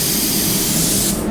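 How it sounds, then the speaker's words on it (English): A paint spray gun fitted with a 3M fine finish nozzle hisses steadily at about 22-23 PSI, a loud, close, continuous blast that cuts off near the end. "I'm gonna spray this at about like 22, 23 PSI."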